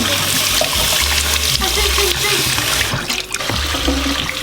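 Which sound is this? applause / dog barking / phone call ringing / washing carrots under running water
washing carrots under running water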